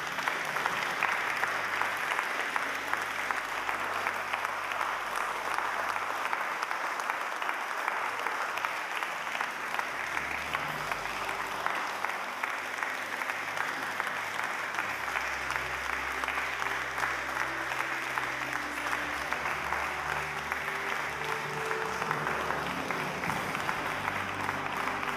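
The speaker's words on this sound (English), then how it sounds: "a big round of applause is due" Sustained audience applause at an academic award ceremony, a dense, even patter of many hands clapping that continues unbroken for about twenty-five seconds.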